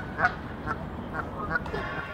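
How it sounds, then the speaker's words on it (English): Geese honking outdoors during a walk, with several short, loud calls spaced out over a couple of seconds against background noise. "Pati ang mga ibon, nakasali na rin."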